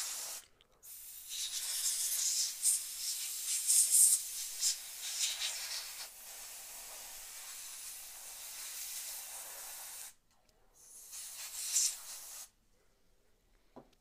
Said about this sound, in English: just gently spray compressed air pretty much anywhere else where you see dust